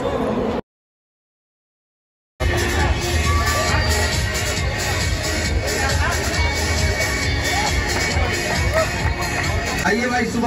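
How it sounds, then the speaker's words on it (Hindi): A large crowd gathers for Easter in Ranchi, filling the air with loud, continuous hubbub of many voices and children shouting, broken early by a short gap of complete silence before the noise resumes. "आज अलग ही भीड़ है भाई।"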